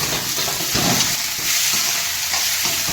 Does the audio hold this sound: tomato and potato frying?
yes